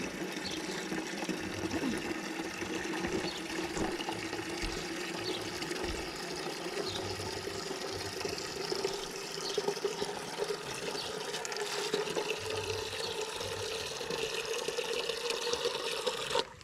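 Garden plants are watered with water drawn from a small pond, a steady splashing and pouring of liquid heard close and continuous for the whole stretch, with faint outdoor background underneath and no talking.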